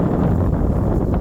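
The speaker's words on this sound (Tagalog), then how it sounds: "Naririnig mo yung hangin?" A brief burst of strong cold wind at a lake, loud rumbling buffeting against the microphone, steady and without speech.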